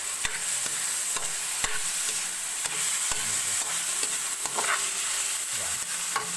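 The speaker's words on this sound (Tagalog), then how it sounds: "So ito na siya guys, ginigisa ko na siya guys." Chicken pieces sautéing with onion in a pan for tinola, a dense continuous sizzle broken by a regular series of sharp spatula taps and scrapes, close and fairly loud, with no talking.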